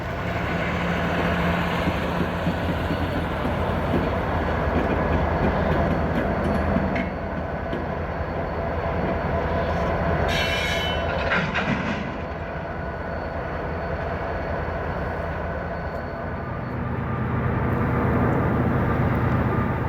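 Freight train Q335 with its locomotives pulling hard out of Wyoming Yard toward Chicago in January snow, a steady heavy diesel engine roar and rail rumble that holds loud throughout, dipping slightly midway before swelling again.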